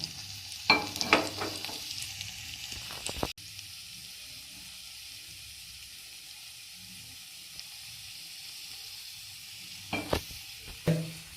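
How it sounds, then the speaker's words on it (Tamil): Cashews and raisins sizzling in hot ghee for a sago milk payasam, with bursts of spoon-scraping stirring at the start and end around a softer, steady frying hiss. "கொஞ்சம் முந்திரி பருப்பு போட்டோம். அது கொஞ்சம் பொரிஞ்சு வர ஸ்டேஜில் கொஞ்சம் திராட்சையை போடுறோம்."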